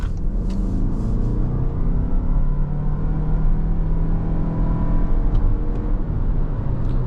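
A 2026 Toyota RAV4 hybrid accelerates hard, a loud steady engine drone and road rumble heard from inside the cabin, climbing in pitch throughout with no break and no talking.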